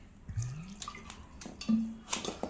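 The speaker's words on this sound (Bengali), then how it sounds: "বেসনের মধ্যে অল্প অল্প অল্প করে জল দিয়ে ব্যাটারটা আমি তৈরি করে নিচ্ছি" Water poured little by little into gram flour batter for brinjal fritters, giving a few soft splashy trickles and drips, quiet and close, with no talking.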